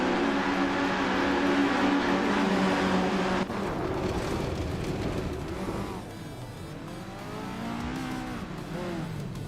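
Formula 1600 race cars at Feldbergring in a racing video game, with loud, close engines droning and revving, pitch rising and falling through gear changes and corners, and a brief voice mixed in.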